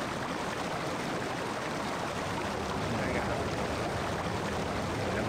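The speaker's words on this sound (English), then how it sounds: "That water is going to get real annoying. It is going to be that loud all the time." Flowing water in Indiana Jones and the Infernal Machine, a constant loud rushing stream that stays unbroken throughout.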